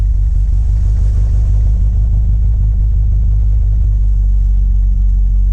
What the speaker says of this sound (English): Now you hear how that's running? Smooth as can be, 1500 RPMs.